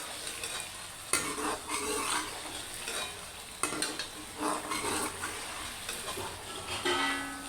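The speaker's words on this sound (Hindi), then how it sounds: "तब तक आप इसमें चम्मच हिलाते रहें और इसे पकाते रहें" Spoon stirring okra and garlic in a frying pan, with a steady sizzle under repeated scraping and clinking strokes, close and continuous throughout.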